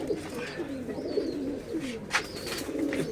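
Several Giribaz pigeons coo in repeated, rolling low calls, close by, with faint chirps and background chatter of a crowded coop on a large farm of about 300 birds.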